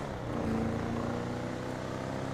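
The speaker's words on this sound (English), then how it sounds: "Just listen to it purr." A steady, smooth classic car engine drone in GTA 5 Online hums continuously at a moderate level, with no talking over it.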